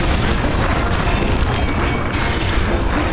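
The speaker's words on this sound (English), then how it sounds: "the moles are blowing up sections of the track" Loud, continuous rumbling explosions from Donkey Kong Country Returns as moles blow up sections of a mine cart track, a dense booming barrage with crashing debris filling the whole stretch without a break.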